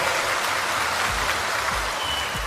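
Steady applause from a large outdoor crowd at a political rally in India, a continuous even roar of many hands clapping, with occasional low thumps underneath.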